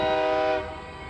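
A Union Pacific freight locomotive horn sounds one loud, sustained chord blast that cuts off abruptly, leaving a low rumble of the passing train.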